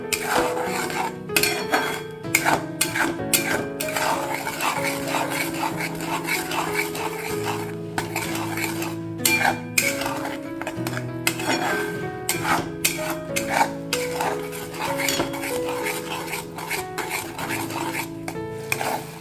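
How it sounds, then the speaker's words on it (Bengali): Spoon stirring capsicum paneer cashew masala in a pan, busy repeated scraping and clinking of utensil against metal, steady and close throughout, with no talk. "ওটা একটু লক্ষ্য রাখতে হবে নাড়তে হবে সমানে যাতে লেগে না যায়"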